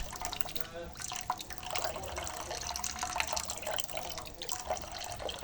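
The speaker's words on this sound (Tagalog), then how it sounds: "Then nilagyan natin siya ng water." Water runs and splashes steadily from a tap into a cooking pot for boiling udon noodles in a home kitchen, fairly close, while someone speaks over the flow.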